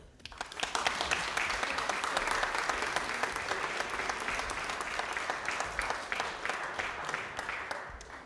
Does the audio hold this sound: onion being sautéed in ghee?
no